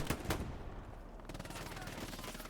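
Machine gun fire in a video game match, with bursts of rapid shots near the start and continuous gunfire and battle noise throughout at moderate level.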